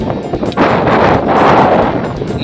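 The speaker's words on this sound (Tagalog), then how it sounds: "Ang lakas din ng hangin dun." Strong wind buffets the microphone in loud, rumbling gusts that swell and ease over a couple of seconds.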